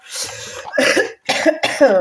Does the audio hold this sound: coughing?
yes